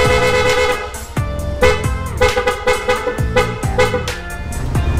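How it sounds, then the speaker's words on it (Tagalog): A PIA horn fitted to a Yamaha Aerox scooter honks loudly and close in a run of short repeated toots, beeping several times in quick succession. "gawin nating PIA horn."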